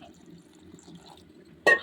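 A short splash of water poured into a mixer jar holding cooled, roasted masala and two spoons of coriander powder for chicken chops; it comes as one quick burst near the end, after a quiet stretch.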